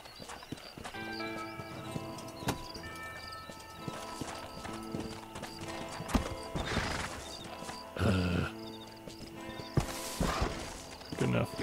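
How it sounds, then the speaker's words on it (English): Horse hooves clip-clop steadily in Red Dead Redemption, a barn horse trotting with a regular rhythm under game music, with a few whinnies and louder hits toward the end. "Barn horse."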